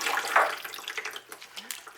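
Water pours and trickles through the inorganic wicking media of potted phalaenopsis orchids, a steady splashing flow close by that thins out toward the end.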